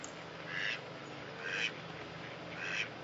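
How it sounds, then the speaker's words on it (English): Farm ducks of mallard descent quack in three short bursts spaced about a second apart, each a raspy cluster of calls rising over a steady low background murmur. "Most of today's farm ducks are descended from these mallards"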